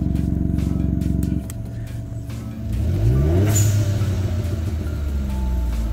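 A tuned VW Up TSI engine heard from inside the car with the exhaust diffuser toggled open and closed, a loud close drone that drops, then climbs in a revving sweep and settles into a steady hum.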